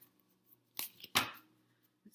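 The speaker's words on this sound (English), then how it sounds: "I'm shuffling the Moonology deck." Soft papery riffles of a Moonology oracle card deck being shuffled, a few quiet separate bursts of cards sliding and snapping together close up, with near silence between them.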